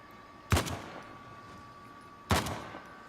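Two separate gunshots in Uncharted: The Lost Legacy, sharp broadband cracks roughly two seconds apart, each with a short decaying tail over a steady low background hum.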